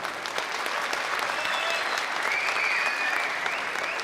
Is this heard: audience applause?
yes